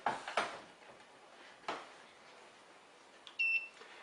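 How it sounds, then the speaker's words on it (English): A short electronic beep from a MyWeigh iM01 laboratory scale sounds near the end, a clean high tone lasting under half a second, after a few soft clicks and taps in a quiet room. "You'll see the scale beeps, so the calibration has now been completed."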